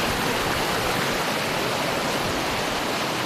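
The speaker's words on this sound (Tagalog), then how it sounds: "Ganda po ng tubig ng ilog." Steady broadband rush of river water flowing over the Kalupisan River, a continuous close, loud wash with no breaks or voices.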